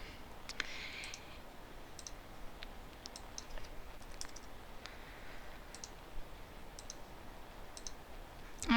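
Scattered sharp computer mouse clicks while navigating Lab Manager v7 software menus, irregular single and double clicks over a quiet room background with no talking.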